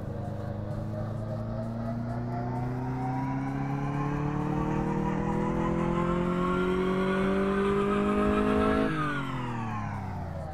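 A simulated car in Car Mechanic Simulator 2014 revs steadily upward on a dyno after performance chip tuning, its engine tone climbing for several seconds before abruptly dropping as the throttle releases, loud and continuous with no talk.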